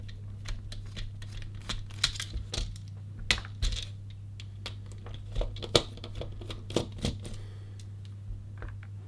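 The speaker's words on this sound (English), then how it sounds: "on this front bit here, we're going to be undoing the two screws here and here" Small screws being undone on a Nintendo Switch Pro Controller during a teardown: a string of light, close clicks and scratchy ticks, irregularly spaced over a steady low background hum.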